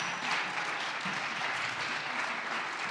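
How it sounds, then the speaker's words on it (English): An audience at a community talent show applauds, a steady wash of many hands clapping at moderate volume throughout. "Let's give a round of applause"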